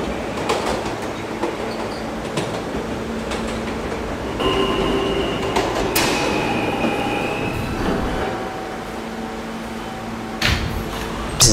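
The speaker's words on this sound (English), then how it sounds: "is the Catalina bound D train" A PTA D train rides along 5th Ave, its steady rumbling wheels filling the interior with occasional squeals and clicks of the track, a brief hiss near the middle and a louder jolt toward the end.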